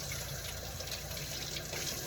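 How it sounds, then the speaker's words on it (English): Lukewarm water runs from a tap over seeds being rinsed for a stew, a continuous soft splashing and trickling, quiet and steady without any talk. "A lot of the times you can remove the seeds as you're rinsing them."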